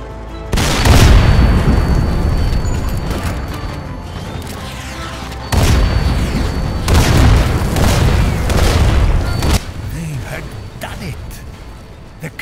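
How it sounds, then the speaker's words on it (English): Captured artillery gun firing and destroying a tank in Sniper Elite VR, heard as loud booming blasts around one and five-and-a-half seconds, each followed by long rumbling decay, with further explosive thuds near nine and a half seconds. "Captured artillery destroyed the tank and bought us another chance."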